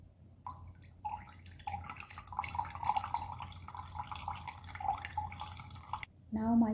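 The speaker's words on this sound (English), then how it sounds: "Now I am going to add some water." Water is poured into cucumber lemon juice, a light trickling splash that runs for several seconds, soft and close, ending in a brief louder clink.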